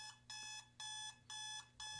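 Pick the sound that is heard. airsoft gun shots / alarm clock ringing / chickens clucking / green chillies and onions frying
alarm clock ringing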